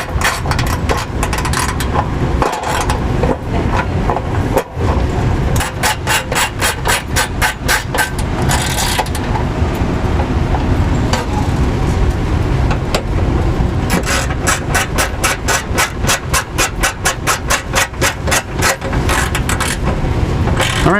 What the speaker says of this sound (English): I'm going to get my socket set and I'm going to go ahead and tighten those into position.